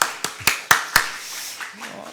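A church congregation at a morning service claps to welcome a missionary, with a handful of sharp, close claps in quick succession that then fade into scattered softer taps.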